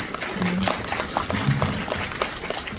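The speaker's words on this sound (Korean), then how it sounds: "다시 한번 큰 박수 부탁드리고요" Applause from a seated audience at a film screening Q&A event, a steady patter of many hands clapping at moderate volume, with a few indistinct voices mixed in underneath.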